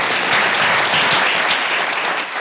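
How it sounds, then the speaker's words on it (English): A crowd at an outdoor Colorado rally on immigration and citizenship gives a round of applause, a steady dense clapping that holds evenly and then tapers slightly at the end. "I wish you could give yourselves a round of applause."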